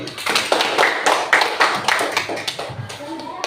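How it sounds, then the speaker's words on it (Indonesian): Classmates applauding a student group after its presentation in a school classroom, a dense patter of many hands clapping that thins out toward the end as children's voices rise. "Baca tepuk tangan untuk kelompok ini."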